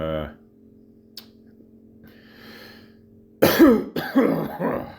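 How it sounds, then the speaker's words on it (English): Quiet near-silence with a faint hum, then a loud, harsh cough followed by a couple more rough coughs and throat-clearing. "You mention it and you just start coughing."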